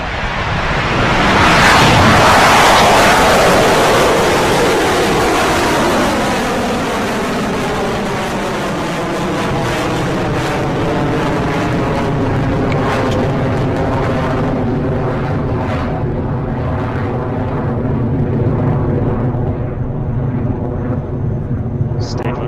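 An Electron rocket's engines start and it lifts off, a loud broad roar that peaks early and then holds steady with a slowly shifting pitch as the vehicle climbs away, with launch commentary spoken over it.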